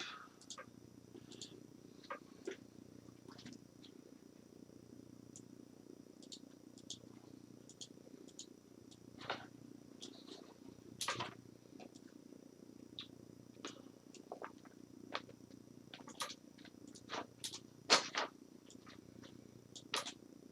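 A domestic cat purring softly and steadily close by, a low continuous rumble with scattered faint clicks and taps over it and no talk.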